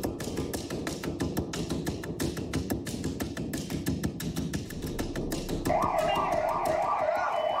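An ambulance siren wails outside a hospital where ambulances full of patients line up, loud and close, with a rapid pulsing pattern that shifts into a rising-and-falling wail toward the end.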